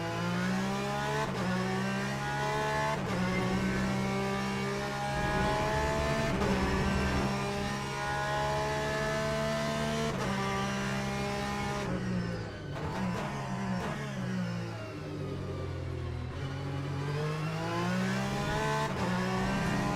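A GT race car engine in the Le Mans Ultimate sim at Portimao drones loudly and steadily throughout, rising through the revs and dropping at repeated gear shifts, with a brief lift-off and deeper downshifts near the middle.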